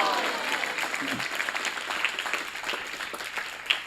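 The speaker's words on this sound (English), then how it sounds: "Let us give a big round of applause to His Grace Namavrata Prabhu and Damodar Pr" Applause from the audience after a youth drama performance at an ISKCON temple, scattered clapping heard fairly faintly in a reverberant hall, with a few murmuring voices underneath and a sharper clap near the end.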